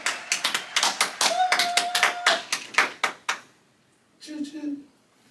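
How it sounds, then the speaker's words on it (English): A small audience claps for a talk-show guest, distinct hand claps ringing out rapidly and unevenly for about three seconds, then fading to quiet before a brief voice is heard. "let's clap it up for Tunk."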